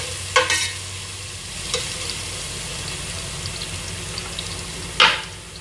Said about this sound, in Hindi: तो लहसुन थोड़ा सा इसका कच्चापन दूर करने के लिए थोड़ा सा इसको भून लेते हैं।